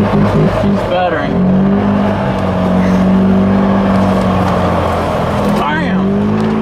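A worn-out workhorse vehicle's engine sputters and runs unevenly at close range, a steady low drone with rough pulses, while people talk over it.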